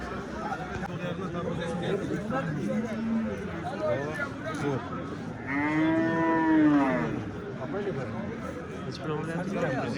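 A cow lets out a long, loud moo, with other moos nearby amid the chatter and murmur of a busy crowd at a livestock market in Kattakurgan, Uzbekistan.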